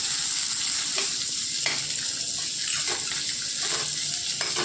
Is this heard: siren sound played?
no